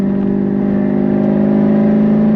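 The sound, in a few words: tuned car accelerating in regular roll-on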